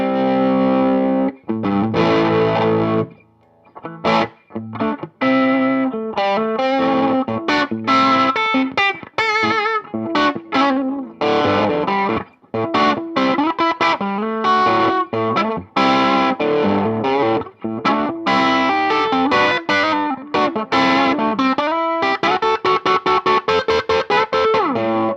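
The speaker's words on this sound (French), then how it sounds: "on obtient des sons assez crunchy" Crunchy distorted electric guitar, an EVH Wolfgang, plays chords and fast riffs, loud and continuous with a few brief gaps, growing busier toward the end.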